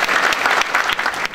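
Audience applause at a National Assembly seminar on design support for small business innovation: a brief, dense patter of clapping from a seated crowd welcoming a guest.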